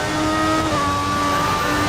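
Engine of a Mercedes Formula 1 car in the F1 2014 game at Bahrain, a steady high whine with rising harmonic pitch as it accelerates toward the final corner, loud and continuous with no talk.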